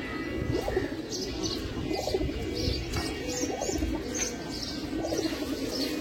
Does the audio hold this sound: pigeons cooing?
yes